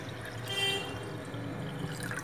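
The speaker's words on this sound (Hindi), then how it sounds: "इसमें हम पानी लगाएंगे" Water pours into a large cooking pot set out for boiling macaroni in a home kitchen, a soft, steady stream heard close up without talk.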